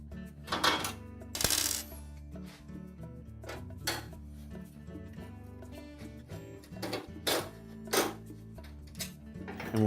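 Screws from a stove's front mounting bracket being removed from a Frigidaire range main top, sharp metallic clinks and rattles against sheet metal, scattered close taps and brief scraping with no talking.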